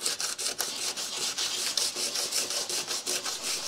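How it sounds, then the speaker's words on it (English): Hand sanding with 60 grit sandpaper scuffs welded rust repair patches on the body of a Nissan GQ Patrol shorty 4x4, a steady rasping rub in quick repeated strokes, close and alone. "scuff up our repairs with 60 grit so that we've got the bog something to bite into"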